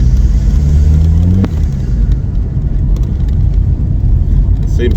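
A VW Passat B3 with a PD150 diesel engine and ASD gearbox accelerates, its engine drone climbing in pitch for about a second and a half before settling into a steady, close, loud road rumble.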